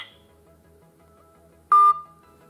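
A DOOGEE Hitman DG850 phone sounds a single short, loud keypad dialing tone after a stretch of quiet background, ringing briefly before fading.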